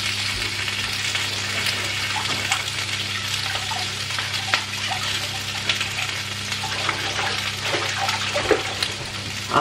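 Salmon fillet sizzling and crackling on a griddle, skin side, a continuous close frying hiss over a low steady hum, with faint voices in the background.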